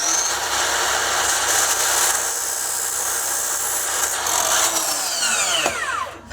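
A power saw cutting wood into picket spacers for deck railing: a loud, continuous whining cut that runs almost the whole time, then winds down with a falling whine at the end.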